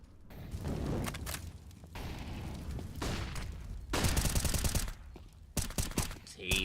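Gunfire in an esports shooter match from the ESL ANZ Champs Open Qualifiers, with sporadic bursts and rapid volleys at moderate distance, broken by quieter gaps and dense clusters of shots.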